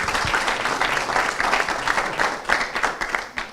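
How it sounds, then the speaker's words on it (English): Audience at a school district superintendent's town hall meeting applauds steadily throughout, a dense, sustained clapping from a sizable crowd with no speech over it. "So, round of applause for you all for supporting this."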